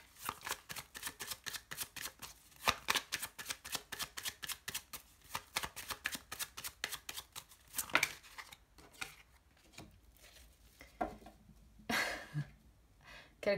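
Lenormand cards being riffled and shuffled by hand, a rapid run of crisp flicking bursts for about eight seconds, then a few slower slides and taps, close and fairly quiet.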